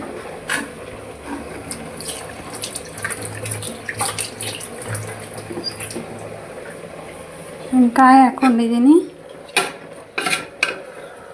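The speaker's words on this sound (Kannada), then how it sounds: "ಕುದೀತಾ ಇದೆ" A pot of toor dal and jaggery filling with grated coconut bubbles steadily on the stove for an Ugadi sweet, a soft continuous simmer with faint utensil clinks under someone talking.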